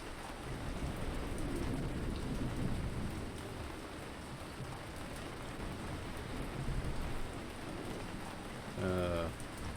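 Steady rain pouring in the Ancient Cities video game, a dense continuous hiss with low thunder rumbling beneath, ending in a brief louder rumble; no talk.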